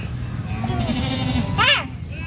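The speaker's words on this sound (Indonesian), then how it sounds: "Kambing orang jangan diapa-apain." A goat gives one short, wavering bleat close by near a lakeside picnic spot, standing out briefly above steady background noise.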